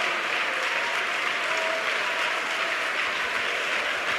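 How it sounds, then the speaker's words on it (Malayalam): A church congregation claps hands during a pastor's sermon, a continuous wash of many hands at a steady level with no break, sounding close and full. "കൈയടിക്കാൻ മറന്നു പോകണ്ട,"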